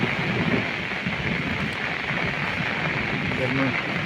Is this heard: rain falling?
yes